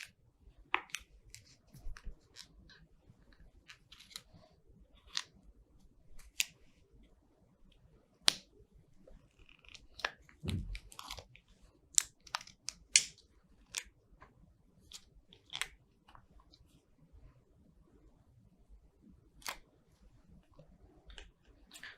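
Scissors snip gently through a plastic yogurt cup that encases a clay fossil model in a school science lab, giving sparse, sharp clicks and crunches at close range with quiet pauses between them and no talking.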